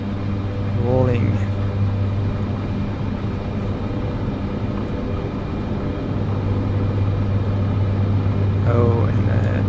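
The turboprop engine of a Cessna C208B on its takeoff roll in Microsoft Flight Simulator 2024 drones steadily with a strong low hum, loud and continuous, while a voice talks over it in short bursts.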